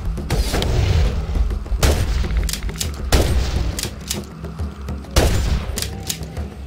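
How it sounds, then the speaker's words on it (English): Flare gun fired repeatedly in the Bigfoot video game, version 4.1 on the Winter Park Resort map: several loud, sharp blasts about a second or so apart, each trailing off into a rumbling tail, with no talking. "you shoot him with that little flare gun"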